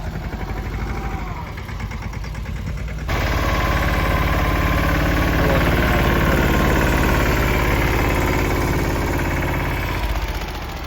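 A farm tractor engine runs steadily in a field, a continuous low throbbing rumble that grows louder and closer after a few seconds and holds there, with no talk.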